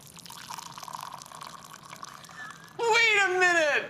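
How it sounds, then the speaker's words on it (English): Hot water poured into a container, a steady rising liquid pour that starts abruptly and fills the last second loudly after a quieter lead-in. "I'm blindfolded to see if cold water sounds different from hot water."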